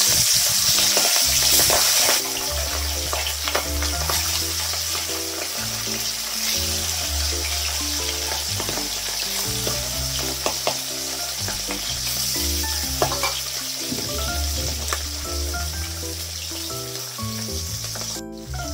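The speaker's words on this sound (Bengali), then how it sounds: "মাছগুলো দেখতে পাচ্ছেন ভাজা হচ্ছে" Fish heads deep-frying in hot oil, a loud continuous sizzle and crackle with occasional stirring, close up and steady throughout.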